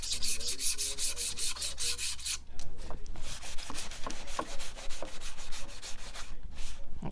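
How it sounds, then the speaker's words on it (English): Painted wooden tic tac toe board lightly sanded by hand with sandpaper: rapid, regular back-and-forth rasping strokes, close and loud, shifting to slower, softer scuffs partway through. "So now you're going to take your sandpaper and you're just going to give it a light sand."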